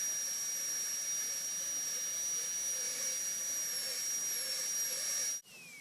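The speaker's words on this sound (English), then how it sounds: "we will use the LVS4 burr to smooth out the depth cuts and reduce it evenly" A dental high-speed handpiece with an LVS4 burr smoothing depth cuts on a tooth preparation, a loud, steady high-pitched whine with hiss that runs unbroken, then cuts off abruptly near the end and winds down.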